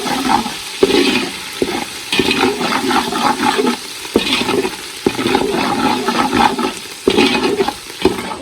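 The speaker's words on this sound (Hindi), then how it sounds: "जी अब इसमें अदरक लहसुन का पेस्ट डालती हूँ। इसकी अच्छी तरह से फ्राई करेंगे।" Ginger garlic paste fries in a hot pan while cooking matar pulao, giving a steady, loud sizzle that carries on throughout with no one speaking.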